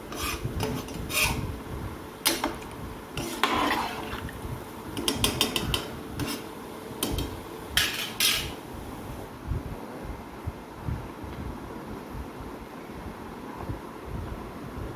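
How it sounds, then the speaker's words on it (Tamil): Rice stirred together with mushrooms in a pot for mushroom biryani, with repeated close scraping and clinking of a spoon against metal in irregular bursts that settle into quieter rustling. "நல்லா மிக்ஸ் பண்ணி விட்டுக்கலாம்."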